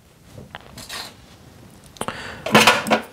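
Small pre-made metal jump rings clink and rattle as they are handled and slotted together, with a few light taps early on and a brighter burst of jingling metal near the end, close up.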